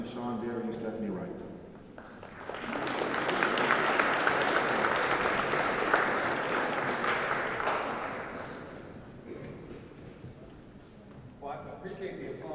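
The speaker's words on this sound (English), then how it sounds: "Well, I appreciate the applause" An audience at a Law Day program bursts into applause that swells for several seconds and then tapers off, with someone speaking before and after it.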